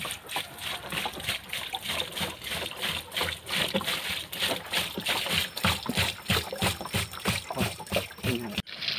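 Water pours into a container being filled for homemade liquid organic fertilizer made with grass, a steady, close, continuous splashing and sloshing with a faint rhythmic pulse throughout.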